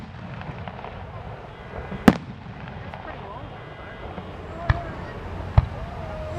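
Fireworks bursting at a hot air balloon festival in Lancaster, heard from a distance as three sharp, separate booms spaced a few seconds apart over a steady crowd murmur and outdoor rumble.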